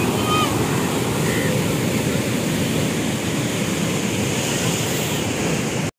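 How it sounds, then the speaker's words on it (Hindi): Rushing canal water roars steadily as a broad, constant wash, loud and close, with wind buffeting the microphone and no clear voices. "वो नहर की ये जो आवाज़ थी"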